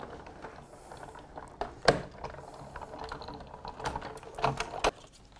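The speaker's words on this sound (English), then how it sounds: "pop them through our die cutting machine" A die cutting machine cranks card through scallop nesting dies, giving a faint, uneven clicking and grinding with scattered louder clacks as the plates pass through the rollers, close by and alone.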